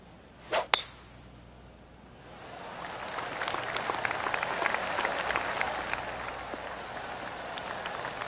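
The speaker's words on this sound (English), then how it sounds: "I can hear the golf claps around the course" A couple of sharp metallic clicks, then a spread of soft, distant applause from golf spectators on a final hole rises and lingers, like scattered clapping across an open course.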